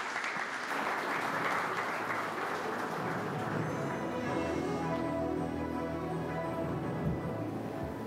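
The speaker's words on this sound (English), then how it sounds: "A big round of applause, ladies and gentlemen" Audience applause at a business awards show, sustained clapping that gradually blends with music rising underneath, steady and full throughout.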